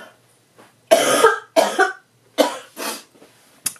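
A person with a tickle in the throat gives several harsh coughs in quick bursts, close and fairly loud, with brief quiet gaps between them.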